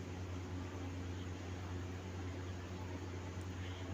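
A sewing machine stitches along the scalloped hem of a kurti, producing a steady, close motor hum that runs without a break for the whole moment, with no voices over it.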